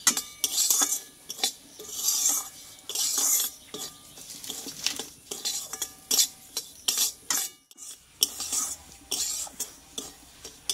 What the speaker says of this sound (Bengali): আমি ভালোভাবে একটু ভেজে নেব